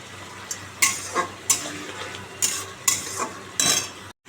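Masala frying in oil in a home kitchen pan, with repeated bursts of stirring scrapes and sizzle at an uneven rhythm over a low steady crackle, close and moderately loud.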